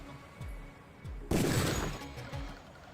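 Gunshots in a first-person shooter video game: a sharp loud blast bursts out midway, with a few lighter shots and game sounds around it.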